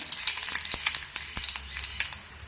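Dried red chillies and curry leaves hit hot oil with mustard seeds already popped, a Kerala-style tempering for payar thoran, giving a close, steady crackling sizzle dotted with sharp pops and no voices.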